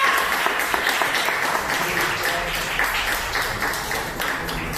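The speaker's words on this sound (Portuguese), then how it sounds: "as palmas ao Senhor" A church congregation at a Sunday service applauds together, producing loud, continuous, thick clapping that holds steady without a break for the whole stretch.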